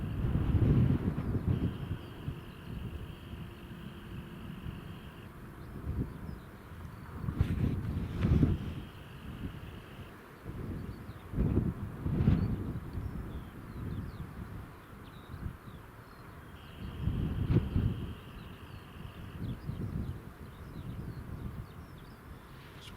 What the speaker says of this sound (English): that breeze has definitely picked up